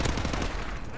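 Gunfire in the Call of Duty Modern Warfare Remastered video game: a rapid, loud burst of automatic shots rattling in quick succession, close and dense for about a second.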